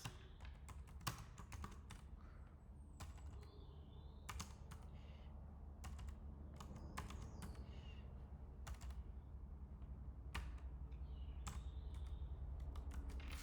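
Steady typing on a computer keyboard while building web page links in HTML and CSS, bursts of quick key clicks with brief pauses, close-miked over a low background hum, no speech.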